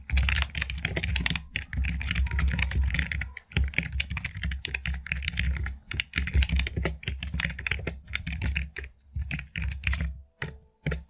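Steady, brisk keystrokes on a computer keyboard while a MySQL query is typed in, rapid clicks in bursts with short pauses, close and alone without talk.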